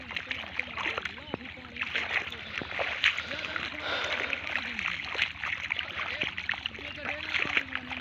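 Water runs and splashes steadily along a rural irrigation channel, a continuous close wash that lasts throughout, with people talking over it.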